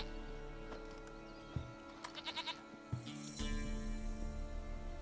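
A goat in The Witcher 3 gives a short bleat over game music and ambient sound, with a few faint ticking effects around it.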